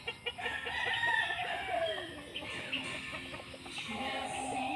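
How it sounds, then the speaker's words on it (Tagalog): Chickens and small chicks at a farmyard hut, with hens clucking and roosters crowing repeatedly and fairly close, a steady chorus of fowl calls throughout. "Maliliit na sisiwan. Ayan. Sa kubo."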